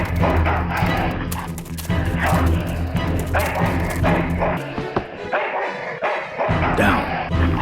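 Repeated loud dog barking and yips in the video game Full Throttle Remastered, an energetic run of close barks stretching across several seconds over a busy game soundtrack.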